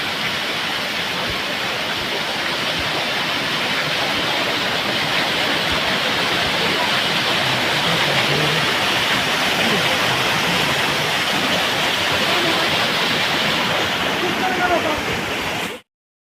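A forceful waterfall roars as a loud, unbroken rush of water that stays close and steady until it cuts off abruptly near the end.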